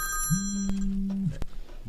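A telephone rings with an incoming call during a cooking show broadcast: one sustained electronic ring tone lasting about a second, clear and fairly close, with no talking over it.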